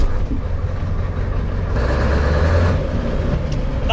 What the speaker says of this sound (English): Let's give it some V8.